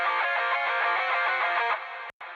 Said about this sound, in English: So it's simulating a megaphone.